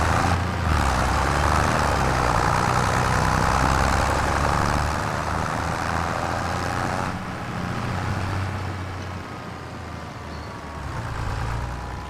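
Tractor engine idling in Farming Simulator 25 on a farm map, a steady loud low rumble that holds throughout with a slight dip partway, no talk over it.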